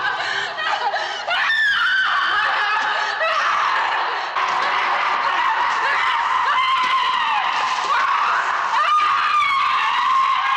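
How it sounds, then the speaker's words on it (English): An actress screams and yells hysterically in a horror film, long strained cries that rise and waver, loud and close, with shrieking bursts that sound almost like manic laughter. "yells with her entire body"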